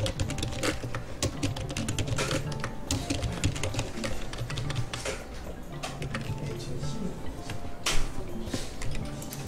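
Commands for AutoCAD are typed on a computer keyboard, with rapid, irregular key clicks running throughout, close and moderately loud, and no clear speech over them.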